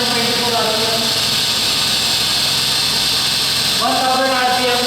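A gyroscope rotor spins at about 1000 RPM, giving a loud, continuous mechanical whir with steady tonal bands. The pitch rises slightly near the end.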